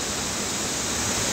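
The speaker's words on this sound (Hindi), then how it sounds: "एक और झरना, बहुत मजबूत नहीं बहुत ही खूबसूरत झरना" A modest waterfall along a Himalayan trekking route to Rudranath sends up a steady, dense rush of falling water that holds unchanged throughout, with no voices.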